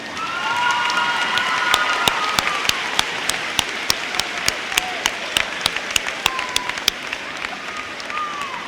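Sustained applause from a large graduation audience, dense and even, with sharper individual claps popping through and scattered murmurs underneath.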